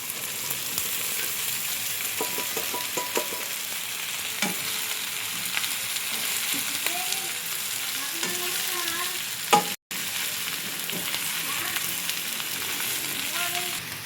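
Chopped chicken frying for sisig in a pan with browned onions, crackling in a loud, continuous sizzle for over ten seconds while a utensil scrapes and stirs now and then, briefly cut off near the end, with no voices.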